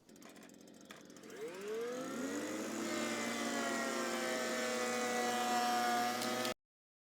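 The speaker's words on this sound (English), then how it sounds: "This is the biggest handheld plane that they do, and it's well on top of the job of planing these beams." A large Makita handheld power planer cutting along oak beams, its motor spinning up with a rising whine and then holding a steady, loud, close tonal drone for several seconds before it cuts off abruptly.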